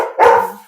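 A dog barks once outside, aimed at neighbors nearby: a single loud, sharp bark that trails off quickly, with no other sounds around it.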